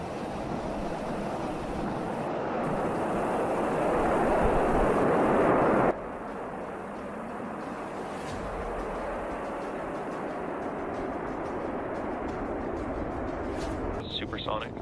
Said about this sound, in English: Ignition. And liftoff. Go Firefly, go iSpace, go Falcon.